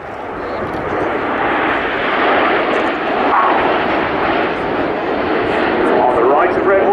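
Red Arrows jet aircraft flying in short diamond formation at an air tattoo display, a loud sustained roar that swells and holds across the whole stretch, with an announcer talking over it.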